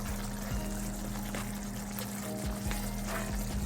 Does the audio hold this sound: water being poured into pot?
yes